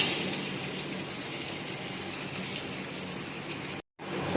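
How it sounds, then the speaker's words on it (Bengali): Water pours steadily into a cooking pan of potol and okra, a continuous close gushing stream that cuts off abruptly near the end. "এবার একটু জল দিয়ে দেবো"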